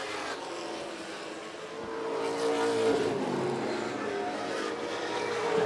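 Pro Stock race cars roar around a track in a sustained, loud engine drone that rises in intensity midway, with no talking.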